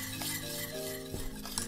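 A whisk scrapes and stirs thickening cake cream against the bottom of a pot on the stove, soft rhythmic stirring with faint metallic clinks and a low sizzle close by.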